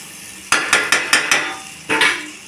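Spices for egg curry frying in a pan, heard as a quick run of five sharp scraping stirs followed by one longer scrape, close and fairly loud over a faint background sizzle.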